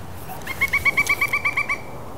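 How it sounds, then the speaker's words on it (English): A pileated woodpecker calls from down in a ravine: a run of about ten evenly spaced, clear piping notes, moderately loud and slightly distant, then stopping, with no talk over it. "You can hear a pileated down there. He's down in the ravine."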